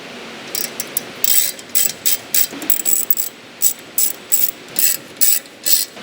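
A ratchet tightens the wheel bearing assembly bolts on a 1972 Dodge Challenger front end, clicking in a dozen or so short, evenly spaced bursts, loud and close with no talking.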